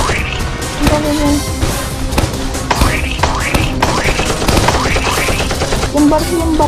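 Rapid automatic gunfire from the Roblox prison escape game, loud repeated bursts of shots in quick succession throughout.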